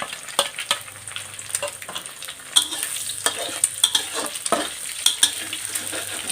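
Egg and shallots fry in a pan for fermented fish fried rice, with frequent spatula scrapes and clinks against the pan over a constant close sizzle.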